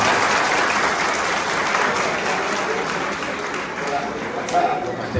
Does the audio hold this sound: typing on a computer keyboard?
no